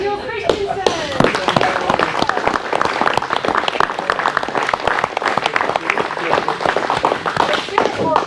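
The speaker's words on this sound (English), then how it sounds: "Let's hear it for Daniel Christensen" Applause and clapping from a gathered group at an RV technician school graduation, a steady dense patter of many hands lasting several seconds, close and fairly loud.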